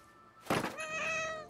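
A cat meows in the video game What Remains of Edith Finch, starting with a sudden thump and then a clear, drawn-out tonal meow that rings out close and fairly loud.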